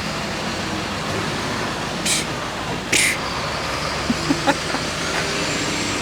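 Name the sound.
old Cadillac engine running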